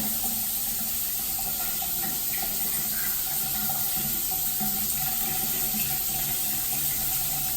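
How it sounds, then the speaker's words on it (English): A rainforest shower head runs in a hotel bathroom at a Punta Cana resort, a loud, dense, unbroken hiss of falling water close by with a faint tonal hum underneath, steady from start to finish. "So I'm going to turn this on for you so you guys can see what it looks like. The rainforest shower head."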